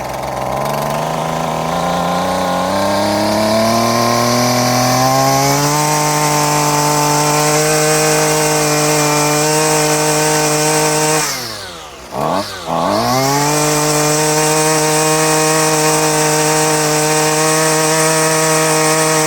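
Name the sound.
Husqvarna 128LD string trimmer engine running at half choke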